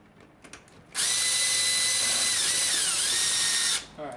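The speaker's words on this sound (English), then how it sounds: "Put my drill on 2." A power drill on setting 2 whirs steadily for about three seconds, its high whine dipping slightly as it drives a screw installing a cut-in electrical box in drywall, with faint clicks before it starts.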